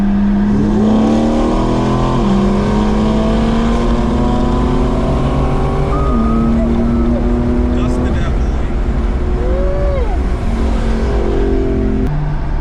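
A BMW M4 and a Scat Pack Dodge Challenger 392 accelerate side by side in a drag race, engines roaring loudly and climbing in pitch through several gear shifts over about twelve seconds, continuous and close.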